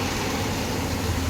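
A tractor engine runs steadily while being loaded at a roadside drainage-line dig, its low, continuous rumble holding close and even throughout with no talk.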